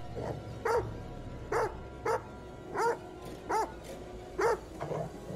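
A dog in the horror game The Devil In Me barks about seven times, each a sharp, fairly close, loud bark spaced roughly half a second to a second apart over steady background noise.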